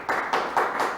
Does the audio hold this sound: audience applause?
yes